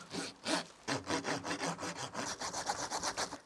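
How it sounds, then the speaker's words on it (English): A hand saw rasps steadily through a bonsai tree branch in quick back-and-forth strokes, close and fairly loud, with no voices. "So I'm gonna find a nice spot to begin sawing."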